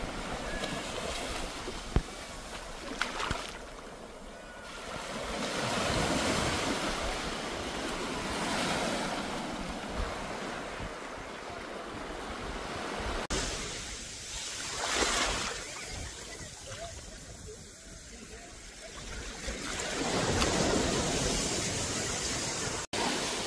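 Ocean waves wash onto a clear-water Hawaii beach in steady, broad surges of surf, with wind buffeting the microphone throughout and no voices.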